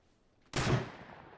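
A single loud gunshot in the survival game Rust, a sharp crack after a quiet moment that rings out and decays slowly over the following second.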